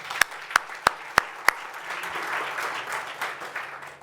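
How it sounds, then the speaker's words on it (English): Applause from an audience at a lecture opens with five loud, evenly spaced claps close by, then swells into a softer, sustained patter of many hands from the wider room. "May we give her a round of applause."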